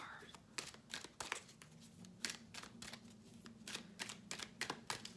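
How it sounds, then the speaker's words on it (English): Tarot cards are shuffled close by in a series of quick, crisp riffling snaps and soft slides, quiet and irregular, with no talking over them. "So I'm just shuffling, leaving this open to whatever it is"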